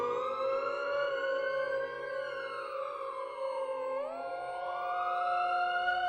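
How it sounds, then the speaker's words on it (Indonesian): An ambulance siren wails continuously and loudly, its tone sweeping slowly up and down in a steady rising-and-falling cycle that dips and recovers partway through, with no voices over it. "sirene ambulan."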